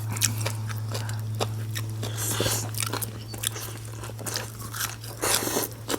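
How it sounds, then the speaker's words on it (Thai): Close, crisp crunching as raw crunchy vegetables eaten with Thai beef curry are bitten and chewed repeatedly in a steady rhythm, over a low constant hum. "เนี่ยฟังเสียงแบบกรุบกรุบกรุบกร"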